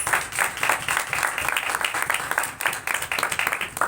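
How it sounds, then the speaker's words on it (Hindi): Congregation applauding during a church service: lively clapping from a room of people, with rhythmic bursts and slight swells in intensity throughout, close and fairly loud. "आज के जलाल के लिए भरपूर तालियां हो जाए।"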